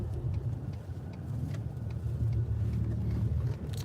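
Performance Ford F150 twin turbo pickup truck rolling slowly through a small-town neighborhood, a steady low engine and road rumble heard from inside the cab with no talking.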